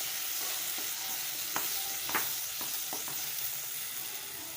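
Prawn stuffing tossed in hot oil in a pan, a continuous bright sizzle with a few soft spoon scrapes and taps scattered through it, close and fairly even.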